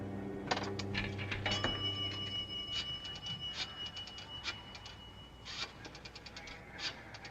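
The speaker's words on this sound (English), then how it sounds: "To get it, Sheila dropped a nickel in the slot." A nickel drops into the slot of a 1950 New York payphone, answered by a run of sharp metallic clicks and chimes, steady ringing tones and a low hum, close and clear with no voices.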